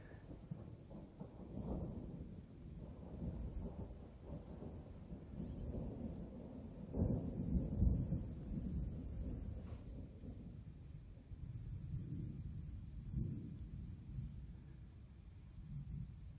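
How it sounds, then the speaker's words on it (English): Thunder rolls out in the distance over a mountain pass, giving a long, low, grumbling rumble that swells and fades across several seconds and peaks midway, faint under soft wind. "We've got a little thunder rumbling"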